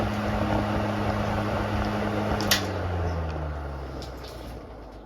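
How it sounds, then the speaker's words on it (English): A vintage Fasco 12-inch box fan spins down after switch-off, its steady motor hum and airflow whoosh gradually falling in pitch and fading, with a brief faint click partway through. "Here's a spin down for the 12-inch Fasco."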